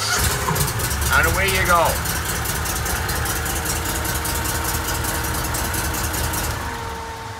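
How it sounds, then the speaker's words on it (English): A 2021 Argo Conquest Pro 950 XT 8x8 amphibious vehicle's engine cranks briefly, catches and settles into a steady, continuous idle. A person speaks over the start. "Now to start this, you want to pull your handbrake in and then hit your start button."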